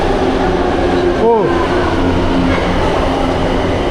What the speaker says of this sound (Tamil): ஜபகுரா இப்படி தான் வரும்போதே வண்டி வருது பாருங்கள்